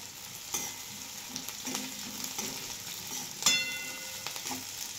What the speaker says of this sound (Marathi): आता कांदा चांगला तळल्यानंतर बघा हिरवी मिरची घालून घेते।